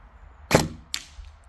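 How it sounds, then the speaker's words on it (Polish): Two sharp airsoft replica gunshots fired from a rest at a target, a louder crack followed by a quieter second snap about half a second later, close and otherwise quiet. "Pierwszy strzał, żeby zobaczyć mniej więcej jak kolimator ustawiony jest."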